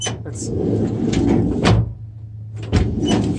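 A Mitsubishi L400 van's sliding door, just fitted with a replacement handle, rolls and latches open loudly up close in a sustained mechanical rumble with a couple of sharper knocks and a low hum underneath.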